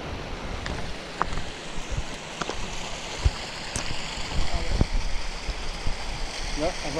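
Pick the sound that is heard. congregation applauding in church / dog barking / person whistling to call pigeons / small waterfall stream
small waterfall stream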